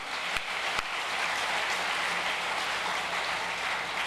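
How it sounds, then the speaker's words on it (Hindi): Sustained applause from an audience at a religious gathering honoring fasting ascetics, a dense, steady wash of clapping with no talk. "जोरदार तालियां बजाओ"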